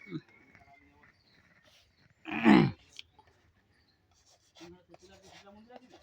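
A single short burst of scratchy writing on a board, lasting about half a second, sits between the quiet speech of a teacher talking in a classroom.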